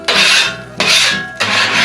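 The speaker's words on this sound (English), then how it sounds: "lightly scrape all that sausage and onion residue off the griddle top" Three rhythmic rasping scrapes of a metal spatula dragging sausage and onion residue across a Blackstone griddle top, close and crisp, each stroke a short gritty rub.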